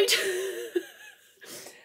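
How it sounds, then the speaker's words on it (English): A single short sneeze, close and fairly loud, followed by a brief pause and a softer breathy sound. "I'm going to sneeze, excuse me."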